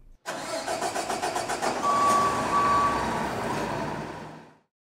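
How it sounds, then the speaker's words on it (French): A heavy engine cranks with rapid chugging pulses, catches, then settles into a loud, steady idle before cutting off. "Démarrez le moteur et mettez la pompe en marche."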